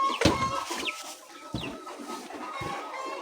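Young layer chicks in a farm poultry house give several short clucks and chirps close by, scattered irregularly over a faint background hum, with no talking.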